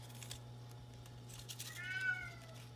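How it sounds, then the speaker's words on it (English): A house cat lets out a brief, drawn-out meow near the end, moderately close, over a steady low hum and faint rustling of paper. "My cat."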